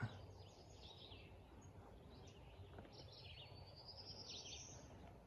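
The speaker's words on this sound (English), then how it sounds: "And you can hear the birds chirping." Birds chirp and tweet in the distance, scattered high calls over a steady outdoor background hum, on a morning along the Appalachian Trail near a lake and trees.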